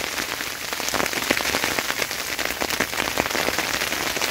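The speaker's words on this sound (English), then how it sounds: "Now the freezing rain hasn't stopped." Freezing rain pelts a small heated winter camping tent in a loud, dense, steady patter, close overhead and unbroken, with no voices.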